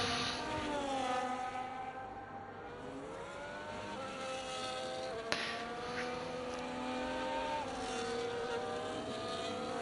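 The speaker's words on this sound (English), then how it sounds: "So majority of the cars getting to their good position now." Formula 1 race cars in the F1 24 video game, rolling to their grid slots before a Las Vegas feature race, with several engines droning and whining at shifting pitches. The sound is continuous and layered, with one brief click partway through and no talking.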